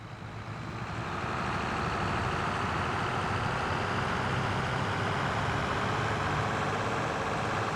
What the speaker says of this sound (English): I have a very old tractor.